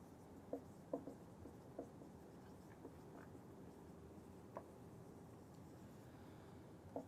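A pen or pencil writes by hand on paper while working through a surveying calculation, making faint scratching strokes with a few soft taps, sparse and very quiet over a low background hiss.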